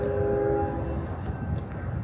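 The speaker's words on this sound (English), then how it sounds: "Well, we're going to have to wait for the train." A train passes through a small-town downtown in Marfa, Texas, a steady low rumble of rolling cars held at moderate distance with a faint horn tone near the start, and no one speaking.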